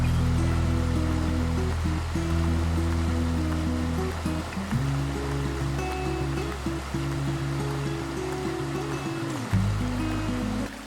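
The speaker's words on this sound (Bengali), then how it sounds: "এই পাথরের গা বেয়ে কিন্তু পানিগুলো নিচের দিকে নামতেছে।" Stream water runs down over large rocks on a rocky jungle trail at Napittachora near Mirsarai, a steady continuous rushing flow, fairly close, heard alone with a low constant rumble throughout.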